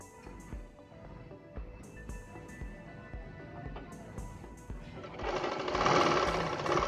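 A sewing machine runs a stitch along a folded dress lining for a Punjabi dress top, faint ticking at first, then louder, denser motor whirring in the last couple of seconds.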